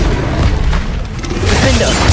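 A Bombarda explosion spell goes off in Hogwarts Legacy, a booming blast merged into continuous loud battle noise that swells again toward the end.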